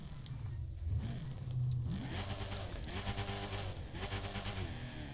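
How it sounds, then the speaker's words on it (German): Camaro ZR1 in The Crew 2 racing game accelerating from a standstill, engine revving up through rising gear pulls with shifts in between, loud and steady throughout with no talk. "Gucken wir uns mal kurz die Beschleunigung an von 0 auf 100 und so weiter."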